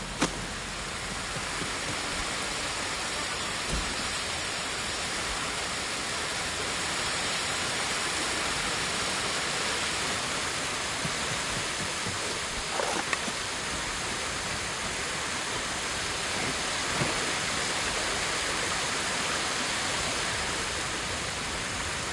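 Waterfall in the video game Ghost of Tsushima, a steady broadband rush of falling water that holds evenly throughout, with no talk over it.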